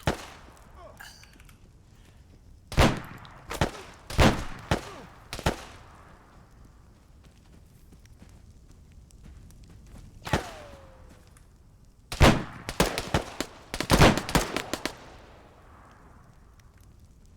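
Gunshots ring out during a shooting training session as sharp, loud reports, single and in quick clusters of two to four, separated by quieter gaps of background noise.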